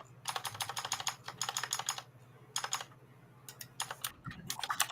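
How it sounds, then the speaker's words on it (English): A clicky mechanical computer keyboard clatters in quick bursts of rapid keystrokes, close and crisp, with short pauses between runs over a faint low hum. "Sounds like a mechanical keyboard to me."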